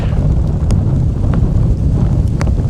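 Strong, gusty wind ahead of a thunderstorm near Mount Kilimanjaro buffets the microphone with a loud, constant roar and low rumble, heard close up on an open rooftop.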